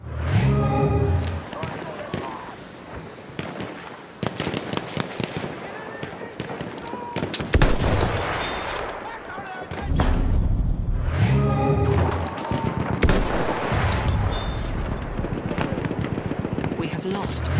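Sniper rifle gunshots in the video game Battlefield 1 on Xbox One, loud booming blasts with echoing tails amid dense battle noise, with voices talking throughout.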